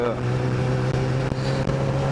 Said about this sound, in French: j'ai décidé de sortir la moto pour faire un petit tour